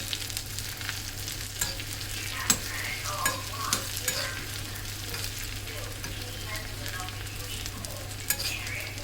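Spices are tempered in hot oil for snake gourd kootu, giving a loud, continuous crackling sizzle with scattered pops and the scrape of stirring throughout, and no talking.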